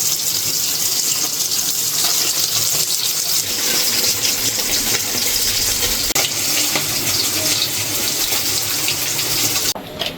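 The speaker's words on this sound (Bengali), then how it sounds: "এই যে মাছ ভাজি আর পটল ভাজি হয়ে গেছে" Tilapia fish and pointed gourd fry in hot oil, giving a loud, steady, dense sizzle that continues unbroken throughout with no voices.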